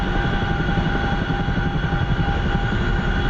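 CH-47F Chinook helicopter taxiing in the DCS flight simulator, heard as a loud steady rotor and turbine drone with a constant whine and pulsing low beat throughout.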